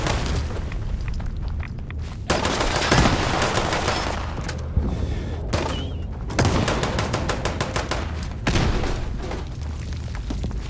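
Rapid gunfire rattles from above in a shooter game, loud dense bursts and booms in close succession, nearly continuous with brief gaps.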